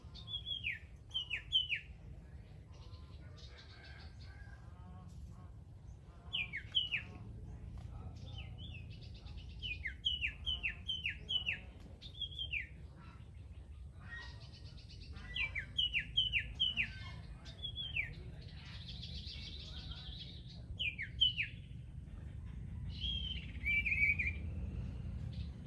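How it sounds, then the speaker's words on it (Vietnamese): An electronic bird caller plays bright repeated bird phrases in short bursts of quick chirps and whistles, separated by pauses, clear and fairly close over a low outdoor rumble. "Đây con chim máy hay quá hay mà."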